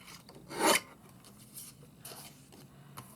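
A paper trimmer blade slices through journaling card with one quick raspy cut, followed by faint scraping and rubbing sounds as the card shifts.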